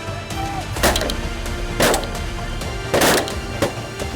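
Shotgun blasts while shooting pink-footed geese over decoys in strong wind, several sharp reports spread over a few seconds against heavy wind rumble.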